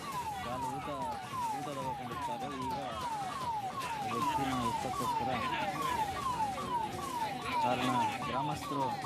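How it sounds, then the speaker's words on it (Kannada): An ambulance siren wails at a canal crash site in Mandya, Karnataka, where a car fell into the water. Rapid, evenly repeating falling sweeps stay loud and close throughout, with voices murmuring underneath. "ಆಂಬುಲೆನ್ಸ್ ಅಲ್ಲಿ ತಗೊಂಡು ಹೋಗ್ತಾ ಇದ್ದಾರೆ."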